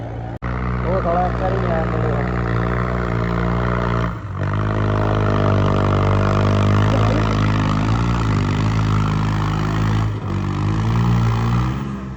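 A tractor engine roars loudly and steadily at a tractor contest at a rural fair, with a deep droning hum that cuts out briefly twice before picking up again.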